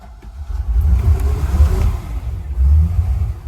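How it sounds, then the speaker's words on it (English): A cold 383 Mercruiser boat engine, a 2000 Maxum 2800, cranks and fires, its low rumble surging and revving in uneven bursts at close range, with no talk. "I'm using one hand to start, one hand to fire it up."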